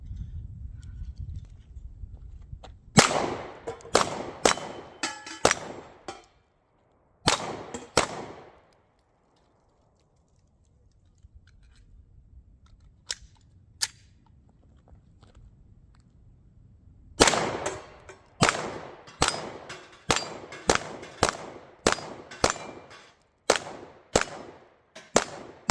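Sig Sauer P320 M18 pistol fired at bowling pins about 10 yards out, sharp shots with metallic clangs in quick bursts, a lull, then a long rapid string of shots and pin strikes, loud and close.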